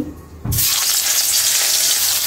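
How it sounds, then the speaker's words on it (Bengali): A loud, steady sizzle bursts in after a brief quiet moment as fish goes into hot oil in a kadai, continuing close and dense with no talking. "এই যে মাছটি দিয়ে দিচ্ছি।"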